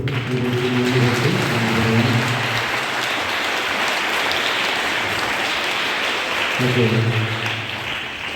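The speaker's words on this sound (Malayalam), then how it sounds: "നമുക്ക് നല്ലൊരു കൈയടി കൊടുത്ത്" A church congregation on the last day of a parish retreat applauds in a long, steady burst of clapping, with a voice talking over it at the start and again near the end.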